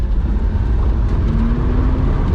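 A JDM mini truck drifting with its diff lock engaged, giving a loud steady engine drone with a dense low rumble and a faint rising whine partway through, no talking.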